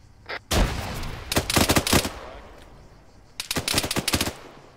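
Bursts of automatic gunfire from enemy contact in the Arma III military game, with several rapid rattling volleys separated by brief pauses, loud and sharp and heard without talk.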